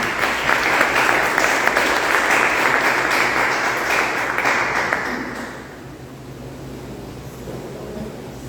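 Church congregation applauding during an evening worship service, a dense, loud wash of clapping that lasts about five seconds before dropping away to quieter room noise.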